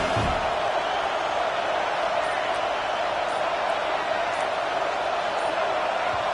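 Loud, steady roar of a packed stadium crowd at a college football game, a dense, unbroken wash of noise holding at full level throughout, with occasional faint whoops within it.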